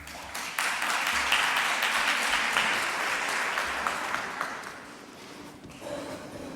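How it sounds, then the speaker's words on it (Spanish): Applause from a conference audience at a One Health national congress panel, a loud, dense crowd clapping that rises quickly, sustains for several seconds and fades toward the end. "les pido un aplauso para ella"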